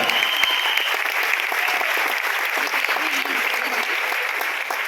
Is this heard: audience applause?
yes